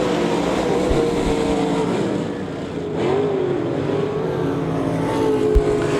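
Race cars roar down the back straightaway at Devil's Bowl Speedway, a steady loud engine drone with a brief dip and swell as the pack passes, continuous throughout.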